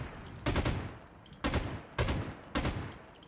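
PKM light machine gun in a video game firing four separate bursts of shots, loud and sharp, each burst followed by a short decaying tail, with no voices.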